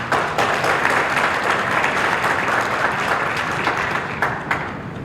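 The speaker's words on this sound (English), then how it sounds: "Give a round of applause." Steady, dense applause from a large audience at a Jack & Jill cotillion held at the Louisville Marriott East, loud and sustained for the whole stretch with no speech over it.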